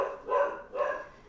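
A dog nearby barks twice in quick succession, two loud, clear woofs separated by a short pause, with no talking.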